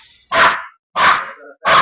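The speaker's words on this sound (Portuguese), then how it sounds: "você percebe que o tipo do latido mudou?" An aggressive Shih Tzu barks three times at close range, each bark sharp and loud with short silences between them, the second trailing into a brief growl.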